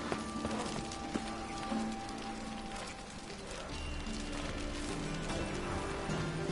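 Horse hooves clip-clop steadily at close range in The Witcher 3, a brisk, even rhythm of hoof strikes over a textured ambient bed with faint tonal music or background hum.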